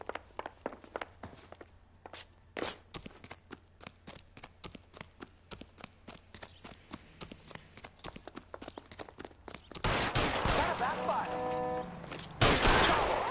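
A long run of gunshots in the video game L.A. Noire, irregular sharp cracks fired in quick succession with short gaps, followed by a louder, denser noisy stretch near the end.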